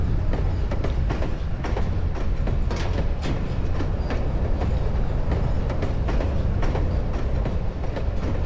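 A train runs on rails in the video game TimeShift, a loud continuous rumble with steady clickety-clack wheel beats repeating throughout, close and unbroken for the whole stretch.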